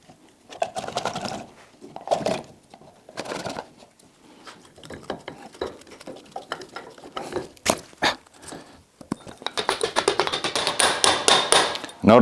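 Hammer tapping lightly on a part of a snow plow being taken apart, with irregular clusters of sharp metallic taps, moderately close, building to a denser run of rapid strikes toward the end.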